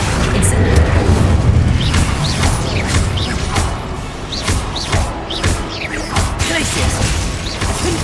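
Incendio fire spell cast during combat in the video game Hogwarts Legacy: loud, continuous booms, crashes and whooshing spell effects that overlap densely, with a heavy low rumble throughout.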